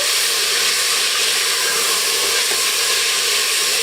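Fresh peas sizzle and hiss in oil in a pressure cooker pot while being mixed, a steady, even frying crackle with no talk.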